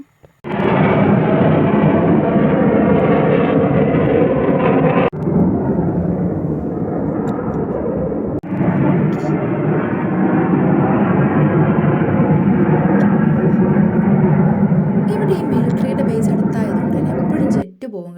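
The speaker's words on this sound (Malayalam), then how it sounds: "ജെറ്റ് പോകുമ്പം ഇവിടുത്തെ പട്ടിക്കും പേടിയാണ് കുട്ടിക്കും പേടിയാണ്" A loud, steady roar of a jet aircraft passing overhead, holding for many seconds with brief dips before it fades out at the end.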